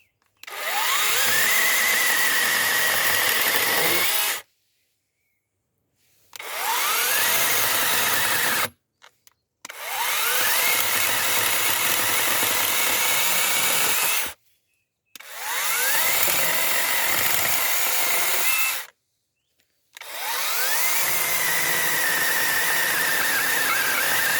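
A small Yato cordless mini chainsaw cuts through hard plum wood in five loud bursts of high, whining motor and chain noise. Each run lasts several seconds and is separated by short silences as the saw stops.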